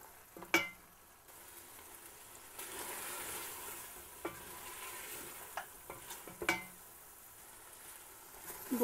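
Mutton frying in a pot with green chillies and ginger for a Peshawari namkeen gosht, a soft steady sizzle broken by a few sharp scrapes and clatters of stirring, fairly quiet and close.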